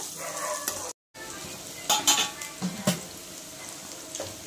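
Ginger-garlic paste frying in a pan for kandha pulusu, a continuous close sizzle broken by a brief dropout and punctuated by several spoon clinks and scrapes from stirring.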